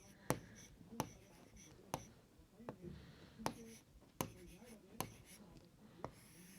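Chalk or a marker writing on a classroom board: sharp taps and short scratchy strokes recur about once a second, close and clear, while a teacher speaks softly in Hindi underneath.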